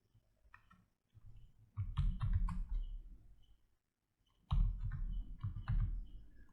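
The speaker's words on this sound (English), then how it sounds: "I will type the commands, then I will explain or break down the command for you." Commands are typed on a computer keyboard in two quick bursts of close, crisp key clicks separated by a short pause, with no talking.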